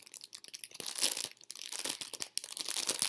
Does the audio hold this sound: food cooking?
no